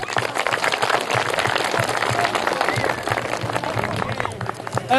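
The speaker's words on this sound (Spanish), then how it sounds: "Un voto de aplauso, señores" An audience at the Fiesta del Agua in Antabamba, Peru, gives a round of applause, dense continuous clapping from a crowd with scattered voices mixed in, fairly loud and steady throughout.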